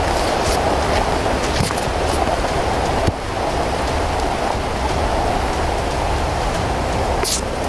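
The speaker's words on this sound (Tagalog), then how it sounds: "Lakas na ng ulan." Heavy rain pours down in a dense, constant hiss with a loud, steady roar, briefly dipping once before continuing unabated.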